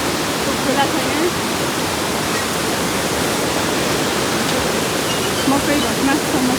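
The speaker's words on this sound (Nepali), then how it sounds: "खोला छ यहाँ" A mountain river rushes beside the trekking trail to Gosaikunda in Nepal, a loud, continuous broadband roar of flowing water with no break, near and steady throughout.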